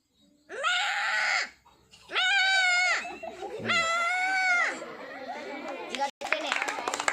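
A voice imitates a baby goat with three loud, drawn-out bleats, each separated by a short pause, followed by quieter rustling and a sharp tap.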